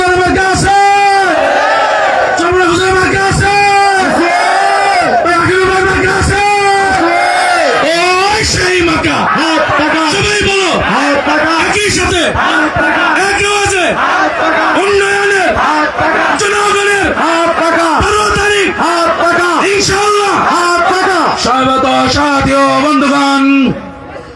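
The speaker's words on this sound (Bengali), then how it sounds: "সাথী ও বন্ধুগণ একটু স্লোগান দিতে পারবো তো" A large crowd at an election rally in Nagarpur, Tangail, bellows slogans in unison, loud rhythmic call-and-response shouts repeating steadily and close for the whole stretch before cutting off.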